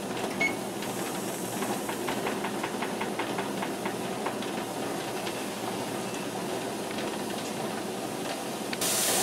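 A pressure canner vents steam while pumpkin is being canned, giving a steady, close, continuous hiss with faint ticking throughout and no voices.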